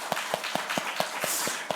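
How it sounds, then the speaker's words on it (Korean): Rhythmic clapping from a church congregation during a Sunday service, evenly spaced claps in a steady beat, fairly close and clear over a soft background. "우리 박수 한번 쳐드릴게요"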